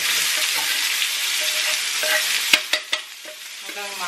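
Garlic and onion sautéing in olive oil with a steady close sizzle, broken near the end by a few sharp utensil knocks and scrapes against the pan as the mix is stirred.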